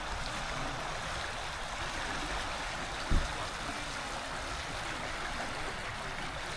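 Fast-flowing river water rushes in a steady, loud broadband roar that stays constant throughout, with one brief low thump near the middle and no voices.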